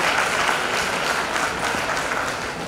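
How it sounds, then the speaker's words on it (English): Audience applause welcoming the incoming 2021 batch of medical students at GMC Siddipet, a dense, loud wash of clapping that sustains throughout and tapers slightly toward the end. "Please give them a round of applause."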